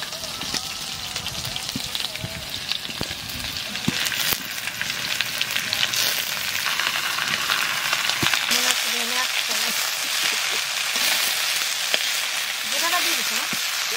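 Potatoes frying in a pan for a cabbage, tomato and pea curry give off a steady, dense sizzle and crackle that runs the whole time, with occasional stirring clinks and no one talking.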